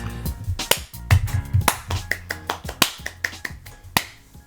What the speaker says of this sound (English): Your clap is horrible.